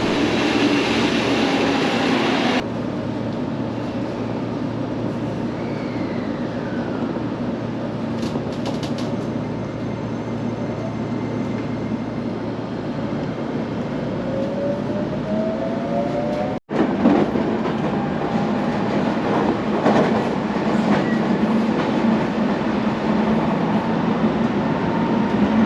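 A Seibu Railway train at a station platform gives a steady rumbling drone with faint squealing tones, broken by a brief cut partway through before the loud rolling noise resumes.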